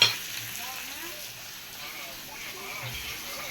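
Fish fries in hot oil in a home kitchen, a soft, steady sizzle that stays faint and close throughout.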